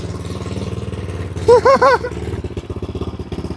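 A 25hp mini quad engine fitted with an FMF exhaust pipe rumbles steadily, rising in a brief high whine around the middle as it pulls away, then settling into a lower pulsing drone that fades slightly.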